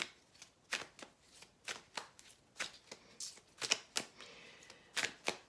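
Tarot cards are shuffled close by, a rapid series of soft, crisp riffling slaps and flutters in quick irregular bursts, quiet and with no talking.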